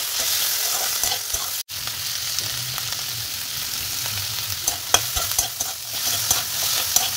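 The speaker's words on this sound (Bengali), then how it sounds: "দিয়ে এগুলোকে এখন একটু ভাজবো।" Onion, peas and tomatoes fry in a wok for a quick biryani, a steady close sizzle punctuated by scraping stirs and occasional clinks, with no talking.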